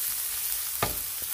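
Onions for samosa filling soften in a pan with a steady hiss of frying and a single sharp stir or knock.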